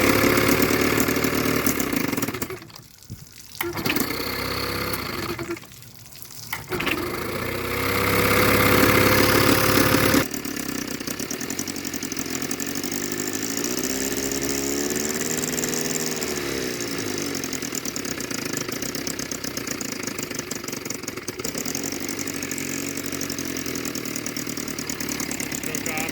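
A 1968 bass boat outboard engine runs loudly and steadily, then settles into an even, continuous idle with a throbbing low drone, close by.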